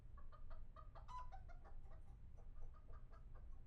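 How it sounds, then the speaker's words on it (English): Several hens cluck in a steady, busy stream of short calls within the New York setting of the Law & Order Legacies video game, over a constant low rumble, close and fairly loud throughout. "What's that noise? Our chickens, Henny, Penny, and Maxine."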